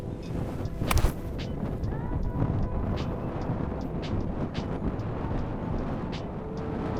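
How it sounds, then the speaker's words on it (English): Steady gusty wind buffeting the microphone on a golf course, rumbling and roaring throughout with occasional sharper bursts of crackle. "Windy up there."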